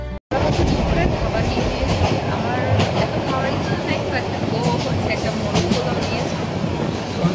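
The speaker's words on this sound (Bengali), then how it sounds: "ব্রিজের উপর ট্রেন চলা অবস্থায় বেশ ভালোই শব্দ হচ্ছিল" The Paryatak Express train rumbles loudly over a bridge, its wheels clattering in a continuous roar heard from on board, with a brief dropout at the very start.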